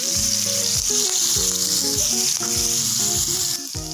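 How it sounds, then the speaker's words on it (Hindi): Chicken pieces frying in a pan for a chicken roll paratha, a steady close sizzle and crackle throughout with repeated scraping of a utensil stirring the pieces, no voices. "अब इसमें मैं चिकन के जो पीसेस किए थे ये वो ऐड कर रही हूँ। हल्का से इसे फ्राई करना है इसमें।"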